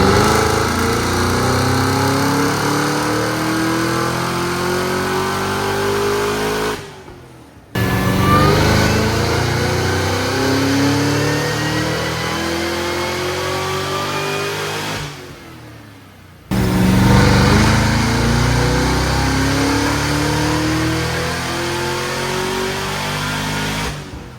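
A tuned high-performance car runs on a chassis dyno at about 580 wheel horsepower. The engine makes three long, loud full-throttle pulls, its pitch climbing steadily through each, with brief drops between runs.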